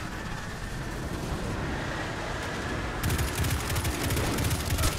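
Gunfire in the video game Destiny 2 Forsaken, a continuous battle din that grows louder and denser partway through, with rapid repeated shots over a rumbling backdrop.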